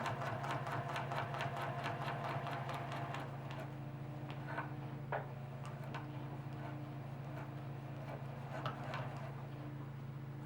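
A sewing machine stitches along a quilt row, running in quick, steady ticking bursts at first, then slowing into sparser, irregular stitches, close by with no voices.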